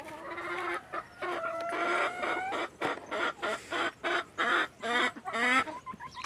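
Chickens on a small family farm raising free-range hens, with a rooster among them, give a run of loud, close clucks and squawks in rapid bursts and short pauses, with no talk over them.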